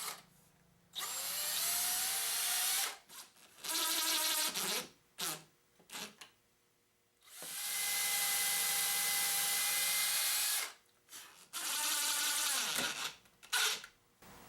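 Power drill boring holes in a homemade grinder slider jig, whining in several close bursts of varied length with pitch that rises and falls as the bit bites, separated by short silences.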